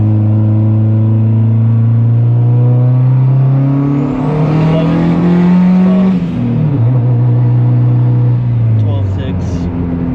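A turbocharged Honda Civic on a cheap build with a bigger turbo pulls hard up a hill, its engine note climbing steadily in pitch under boost, loud and close from inside the car, with voices talking over it.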